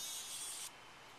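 A TMNT Shell Blaster water toy sprays a jet of water with a hissing rush, a pause, then another burst that starts at the very end, close by and with no talking.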